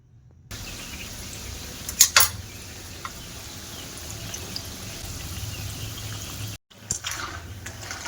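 Nimki pastries deep frying in oil over medium heat, a steady soft bubbling hiss with a few sharper crackles near the start. The sizzle breaks off briefly, then returns.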